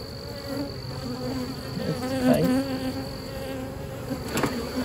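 Steady, close buzzing of many honey bees swarming around a hive, a continuous droning hum that swells slightly now and then.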